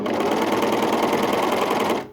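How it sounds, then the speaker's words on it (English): An overlocker sewing machine runs steadily while stitching a trouser seam, a continuous close, loud mechanical whir with rapid needle chatter that stops abruptly at the end. "When you're sewing with an overlocker, you need to keep sewing until you have given yourself a couple of inches of chain"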